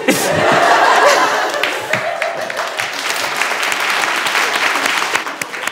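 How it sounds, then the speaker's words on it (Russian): A studio audience applauding loudly and steadily, mixed with laughter and chuckles, a dense crowd sound that continues without pause. "Хлопай, Олесь, хлопай."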